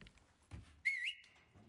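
A sharp two-part whistle sounds in the Resident Evil 4 video game, a rising then held high tone, loud and alone after brief game noise.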